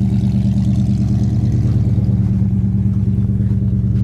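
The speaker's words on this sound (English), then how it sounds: "Dual exhaust sounds good." A 1964 Ford Galaxie with a new dual exhaust runs steadily, its deep low rumble loud and close throughout with no talking.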